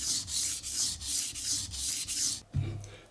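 A knife blade strokes back and forth across a 1000 grit whetstone in a steady, rhythmic scraping, about eight close, even passes, then a short knock as the blade is lifted or set down.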